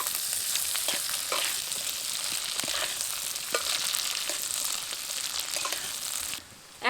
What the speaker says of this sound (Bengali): সবগুলো খুব ভালোভাবে নেড়ে নেব।